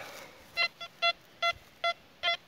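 A metal detector sounds over a buried target with five short, bright electronic beeps, evenly spaced and clear against a quiet background.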